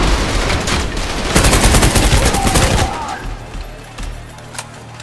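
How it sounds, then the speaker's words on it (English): Explosions and heavy gunfire in the first-person shooter Trepang2, a loud dense barrage of blasts and shots filling the first three seconds, then thinning to scattered distant booms with a low rumble. "Oh my god, there's explosions."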